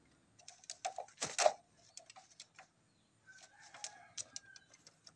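A five-month-old green junglefowl rooster gives a short, thin, faint crow among scattered clicks and light tapping, with the call carrying alone and no talking.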